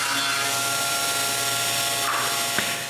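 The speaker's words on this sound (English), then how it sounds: "I need to cut a slot in the center of the center blocks" A power tool cutting a slot into a wooden center block for a tripod, a steady loud whirring grind that runs unbroken throughout, with a small click near the end.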